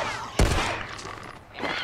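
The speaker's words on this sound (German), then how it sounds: "Ich hab 4-mal auf das Kackding geschossen" A sharp gunshot cracks once in The Last of Us Part II, followed by a lingering rumbling tail and scattered softer pops, in a noisy game soundscape.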